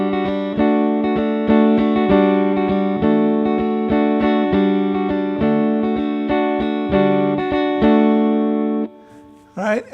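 A sustained guitar chord with an open G substitute tone, strummed repeatedly in a steady rhythm, ringing close and full, before fading out at the end.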